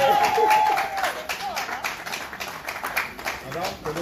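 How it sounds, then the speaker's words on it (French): Wedding guests at a civil marriage ceremony applaud in a room, a loose spread of clapping that rises early and then thins, with voices and crowd chatter mixed throughout. "Est-ce qu'on peut applaudir"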